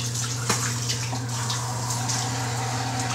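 Running water pours steadily as something is washed, splashing over a constant low mechanical hum. A few brief spatters sound close by, and no one speaks.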